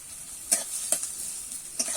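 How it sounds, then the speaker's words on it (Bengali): Chopped onion and garlic frying in a pan give a steady quiet sizzle, with a few sharp scrapes of stirring close by. "পেঁয়াজ আর রসুনটা আমি ভালো করে ভেজে নেব"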